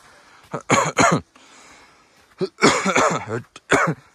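Several short, harsh coughing bursts, close and fairly loud, two around the start and a longer cluster later, separated by quiet pauses.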